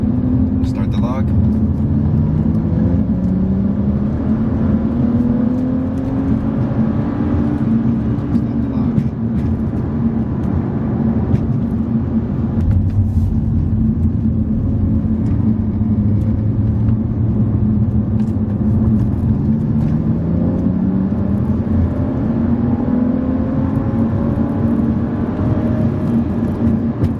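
BMW 335i F30 with N55 turbocharged engine accelerating in a full data-logging pull: a steady, loud, droning engine and road rumble inside the cabin, with the pitch rising and falling through gear changes over about half a minute.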